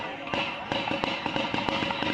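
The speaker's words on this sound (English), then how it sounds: "Those gunshots sending student athletes, coaches, and fans scrambling" Gunfire rings out at an outdoor daytime student athletic event, caught on a live stream: a rapid series of sharp bangs, roughly evenly spaced, over a dense wash of crowd noise and commotion.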